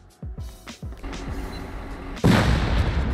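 Gunfire in the console edition of the Rust video game: a series of sharp shots in quick succession, followed by a louder, heavier boom, with a rumbling background throughout.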